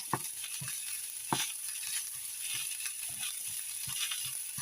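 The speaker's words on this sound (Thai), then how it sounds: "เราก็ผัดไปเรื่อยๆนะคะ ผัดไปเรื่อยๆอย่างนี้ก่อน" Pork fried rice is stir-fried in a pan with a continuous sizzle, broken by regular scraping and tapping of a spatula against the pan.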